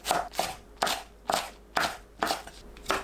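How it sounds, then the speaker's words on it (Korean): A knife slices green onion diagonally on a cutting board, about seven crisp chopping strokes in a steady rhythm, close and clear with no talking. "파는 어슷 썰어 준비합니다."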